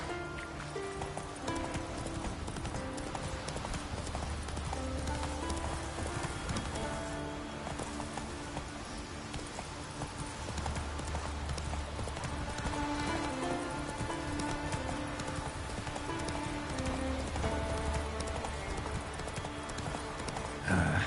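Hoofbeats of the horse Roach galloping in Witcher 3, a steady clip-clop rhythm running under music and ambient game sound, fairly quiet in the mix.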